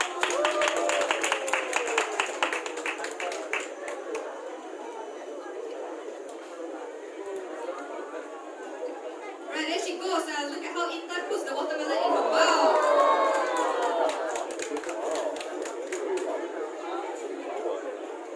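A crowd at a zoo elephant show claps and cheers, bursts of clapping that come and go amid lively chatter and voices, rising to a louder swell near the end.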